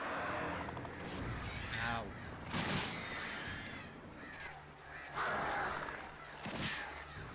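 Crows cawing in the Alan Wake video game: several harsh, loud caws spaced out over a few seconds, each standing out over a low background.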